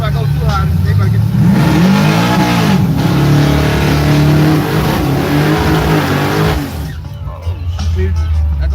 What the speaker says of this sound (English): See, I go to rev limit too fast.